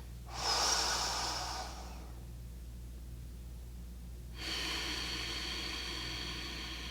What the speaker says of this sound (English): let's do more breathing here